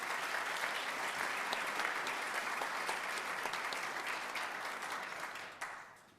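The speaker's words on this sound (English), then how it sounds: "let's give them a round of applause" A congregation applauds in a sustained round of clapping, fairly distant and even, tapering off over the last second with no voices on top.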